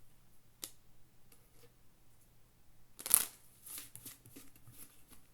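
Playing cards are shuffled during a poker game, with faint scattered ticks and flicks and then a louder riffle burst, all quiet and close with no talking.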